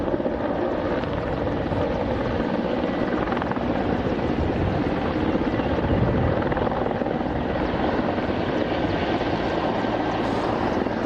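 Czech Mi-24 Hind military helicopter accelerating past at an air show, a loud steady rotor thrum and turbine roar that holds constant throughout, with no voices.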